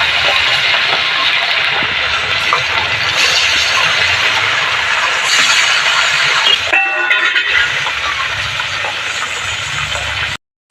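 Bele fish from the Ichamati river frying in hot oil, a loud continuous hiss and sizzle close by, briefly dipping before resuming, no talking.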